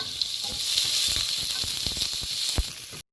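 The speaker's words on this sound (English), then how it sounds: "Once the mustard splatters, I'm going to add the onions, the chili, ginger and curry leaves and mix it." Onions, chili, ginger and curry leaves fry loudly in oil with popped mustard seeds, a dense close sizzle broken by scattered crackles and stirring clatter.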